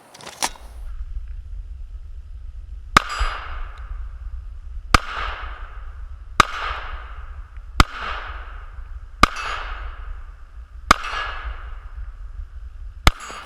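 Seven sharp pistol shots from a S&W M&P 9 Shield fired at steel targets about 20 yards away at an outdoor range, evenly spaced, each crack followed by a ringing ping from the steel.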